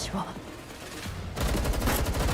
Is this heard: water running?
no